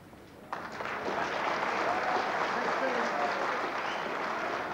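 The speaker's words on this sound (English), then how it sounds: "naturally, the crowd were buzzing." A snooker crowd at the 1982 Embassy World Championship breaks into sustained applause and excited buzzing after a brief quieter start, holding a broad steady roar.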